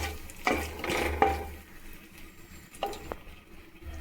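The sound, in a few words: mustard seeds and whole spices sizzling in oil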